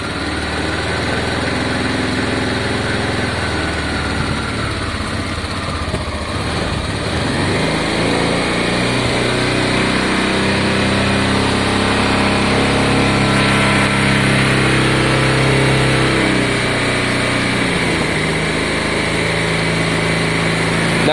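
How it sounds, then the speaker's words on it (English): A Honda Deauville motorcycle engine idles steadily after a carburettor clean, a loud, continuous running drone heard up close with no talk over it. "Now the idle won't be set because I turned it down when I was cleaning the carbs."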